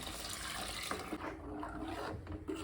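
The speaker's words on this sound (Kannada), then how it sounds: "ಇವಾಗ ನೋಡಿ ನಾನು ನೀರು ಹಾಕೋತಾ ಇದ್ದೇನೆ." Water poured steadily into a pot of sambar being cooked, a continuous close splashing and trickling stream with no talk over it.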